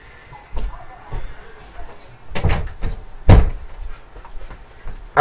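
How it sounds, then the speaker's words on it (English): A bedroom door is handled and shut nearby, giving several short knocks and clunks that end in a louder thud, with a faint voice between them. "let me shut my room door so nobody comes in"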